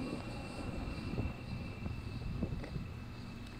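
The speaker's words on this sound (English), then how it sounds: "Here, another plane going over." A plane passes overhead near Lake Arcadia in Oklahoma, a faint, low steady engine rumble in outdoor air, fairly distant, with no voices.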